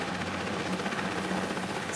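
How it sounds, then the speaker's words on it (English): A search and rescue helicopter flies overhead and away from a seaside slipway, its steady engine and rotor rumble filling the whole clip at a fairly loud, even level with no talk. "the chopper will leave us. Away it goes, back to the search and rescue base."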